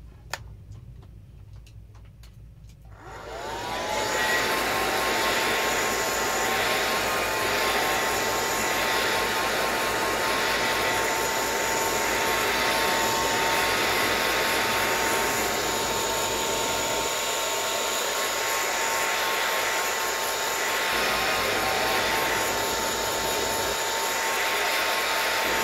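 Hair dryer blowing steadily to dry a paint layer on a mixed media notebook page made from a placemat, starting abruptly after a brief quiet moment and running loud and continuous with a high whine throughout.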